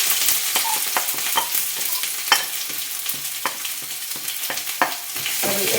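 Chopped ginger and garlic frying in hot oil with popping mustard seeds in a pan, a bright steady sizzle broken by scattered crackles and stirring scrapes, close and loud with no voices.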